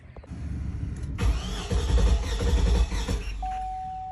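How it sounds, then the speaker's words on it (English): A 2006 Cadillac Escalade engine with a faulty crankshaft position sensor cranks steadily for about two seconds without catching, loud and close, followed by a steady electronic chime. "I will be providing a video of when I try to start this car"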